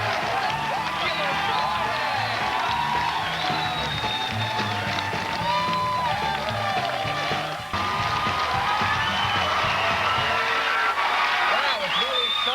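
A studio audience at a late-night comedy talk show cheers, whoops and claps in a dense, sustained roar that lasts throughout, with only a brief dip midway.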